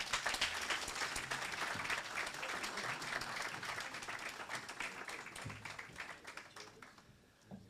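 Thick, continuous applause from an audience for South Africa's Minister of Transport at a formal event, steady at first and slowly tapering off near the end.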